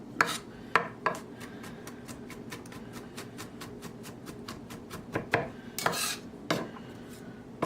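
A kitchen knife works through cooked chicken wings, giving a string of soft scraping and tapping cuts against a plate or board. The cuts come in an irregular rhythm, close but quiet, with a few sharper clacks near the end.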